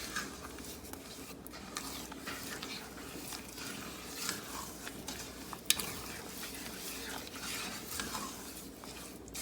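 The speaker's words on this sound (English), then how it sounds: "So you stir it." A spoon stirs melting chocolate brownie mixture in a pot over the lowest heat, giving soft, quiet scraping and swishing strokes with a faint simmering hiss and one brief clink.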